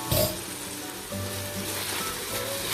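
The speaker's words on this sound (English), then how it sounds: "Now we need to saute this masala really well" Ginger, garlic and green chili masala sizzles steadily as it sautes in a pot, a continuous close frying hiss with a brief louder burst at the start.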